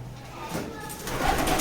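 A white pigeon at a nest box during a fight between white and grey pigeons gives low, soft coos that sit under steady background noise, with the sound growing slightly louder toward the end.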